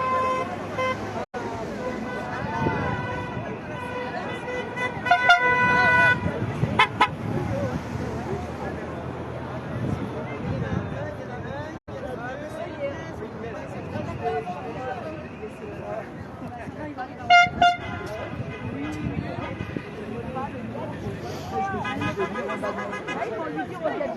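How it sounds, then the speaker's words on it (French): Car horns toot several times amid steady traffic at a toll plaza in Bandol, France, with short bursts standing out over the road noise and crowd chatter. "les gens sont contents quand même, ils klaxonnent"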